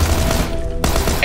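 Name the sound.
Tommy gun firing in the video game PUBG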